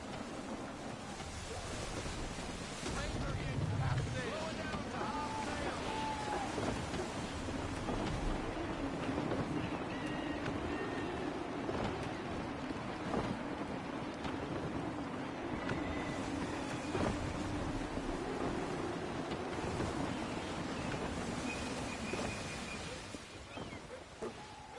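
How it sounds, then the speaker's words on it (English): Gusty wind at sea while sailing a ship in Assassin's Creed 3, a steady rushing roar with waves and creaking hull underneath, carrying on at moderate level throughout with faint voices now and then. "Gusty winds can be difficult to manage."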